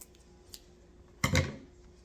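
Scissors snip through chunky yarn while a dog sweater is being made, with one short close cut after a few faint handling ticks.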